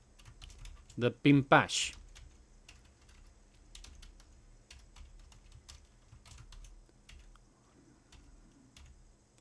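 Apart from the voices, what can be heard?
typing on a computer keyboard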